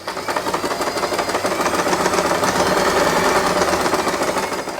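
Sewing machine stitching fabric for a headband, a dense, fast mechanical whir and needle clatter running steadily and loudly from start to finish with no voices.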